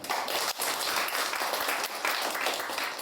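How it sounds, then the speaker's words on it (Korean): Audience at a Korean civic forum applauding in thanks for the chairman, dense sustained clapping from many hands, loud and continuous with a brief dip, no voices. "그래서 회장님께 감사의 박수를 합니다."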